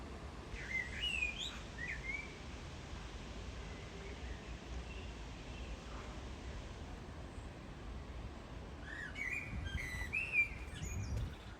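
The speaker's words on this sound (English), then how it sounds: "As the blackbird sings." A blackbird sings in botanical gardens in Sheffield, bright phrases rising over a steady outdoor background hum, with clearer bursts near the start and again toward the end.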